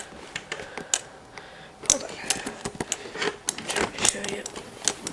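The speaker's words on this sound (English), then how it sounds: "when I type in more letters, it types them in" Fingers tapping out letters on a touch pad keyboard, a quick run of light clicks and taps close by, irregular in rhythm, with a person talking over them.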